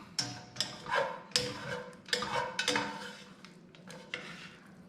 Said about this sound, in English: You mix everything with the shrimp and then the egg.